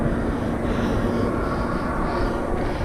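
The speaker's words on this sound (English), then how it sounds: "It's a biplane doing acrobatics over there." A biplane performing aerobatics overhead, its engine a steady, distant drone that holds at an even level under broad outdoor noise beside the flooded River Severn.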